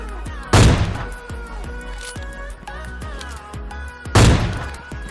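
Two loud gunshots ring out in the mobile game PUBG Lite, spaced about four seconds apart, with rapid clicks and game sounds ticking between them.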